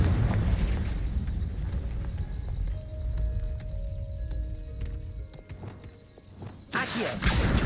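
A Confringo blasting spell in a video game sets off an explosive burst, dense rumbling noise with a sharp crack near the end and a spoken incantation in the mix.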